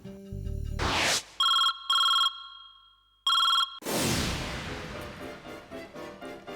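A telephone rings in a TV drama: three short electronic ring bursts, clear and fairly loud, set between swelling background music.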